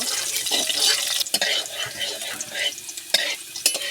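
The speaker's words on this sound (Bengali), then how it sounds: "তেল গরম হয়ে গেছে এবার আমি রসনাটা দিয়ে দেবো রসনাটা দিয়েই হবে আমি নেড়ে চেড়ে ব্রাউন কালার করে নেব" Garlic fries in hot mustard oil, a bright crackling sizzle with spoon strokes stirring through it, uneven bursts rising and falling close by.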